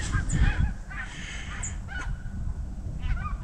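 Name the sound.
geese honking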